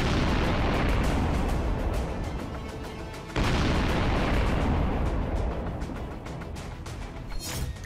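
Artillery fire and explosions from Russian attacks on Ukraine rumble as one continuous, dense roar of booms, with a sharp renewed burst partway through and no voices.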